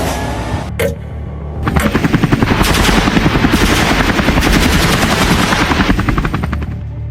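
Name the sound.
gunfire during a night assault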